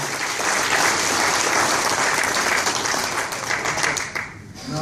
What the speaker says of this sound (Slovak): aby som poprosil jeden veľký potlesk pre pána Urbánka